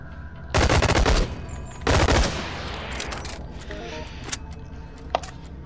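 Rapid automatic bursts from the smaller Yellow Gun, a two-handed ranged weapon in a video game: two loud, dense bursts of fire close together, followed by scattered quieter shots and clicks.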